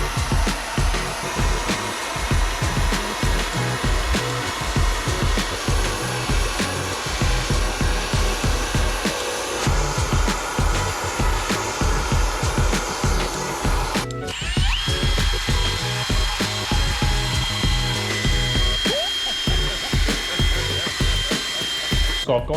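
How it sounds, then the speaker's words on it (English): A power tool whines as it strips underseal from a car's strut tower in a garage, loud and continuous with rhythmic pulses, and its pitch shifts partway through. "before I can do that, I'm gonna remove all the under seal"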